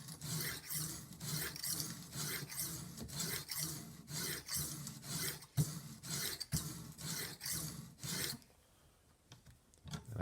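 Fillet knife stroked back and forth on a TSPROF sharpener stone: about a dozen quick, even rasping strokes in steady rhythm, close and alone, stopping just before the end.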